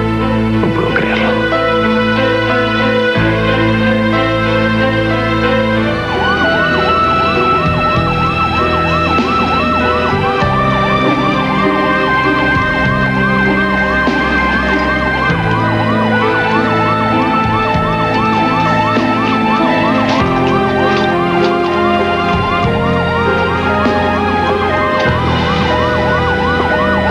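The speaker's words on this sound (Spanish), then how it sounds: "Estoy escuchando sirenas." Emergency sirens wail continuously from outside on a plaza, a rising and falling siren tone that stays loud and steady throughout, with layered traffic rumble underneath and no talking.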